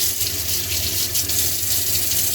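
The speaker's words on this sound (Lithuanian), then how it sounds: "Nuplausim po tekančių vandenį." Running tap water gushes steadily into a sink, a continuous splashing hiss with slight fluctuations as raw meat for basturma is rinsed under it.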